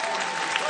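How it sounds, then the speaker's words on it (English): A comedy club audience claps together in a dense, steady burst of applause at the end of a stand-up bit. "Thank you for clapping."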